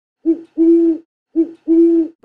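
Owl at a raptor center hooting in a clear, low, two-part pattern, a short hoot followed by a longer drawn-out one, repeated twice, close and loud with no talking.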